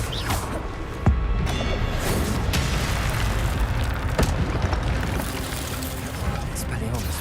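In Hogwarts Legacy, the Incendio fire spell is cast, producing short whooshing bursts and a booming fiery blast over dense game noise, with a voice speaking over it.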